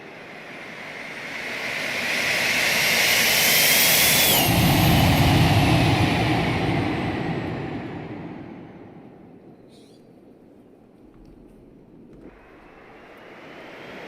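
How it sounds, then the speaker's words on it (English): Aircraft engine thrust in a flight simulator with Aerobask aircraft on approach near Sedona, Arizona: a loud roaring jet surge swells and whines, then fades to a softer steady drone before building again, with no talk. "Listen to the thrust changes on approach. This almost sounds like an F-14 doing a trap."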